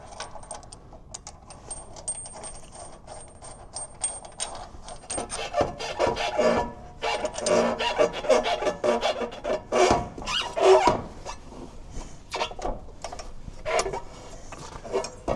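Sweet corn planter disc rubbing and scraping as it is turned by hand during repairs, a close raspy grinding that starts faint and builds into uneven, repeated scraping strokes.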